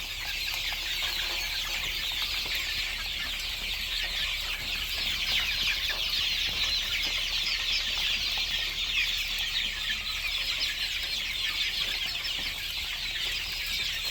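A flock of hens clucks steadily over a constant backdrop of chatter, with no voices.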